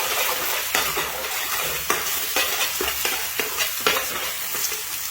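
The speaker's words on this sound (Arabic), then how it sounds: "اول ما اوصل البصل للون هذا اضيف البيض، احرك البيض على السريع" Eggs stirred quickly into frying onions in a pan, a steady close sizzle broken by repeated scraping and clacking strokes of the spoon against the pan.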